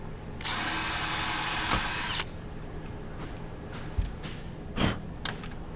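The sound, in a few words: drilling pilot holes into fiberglass window frame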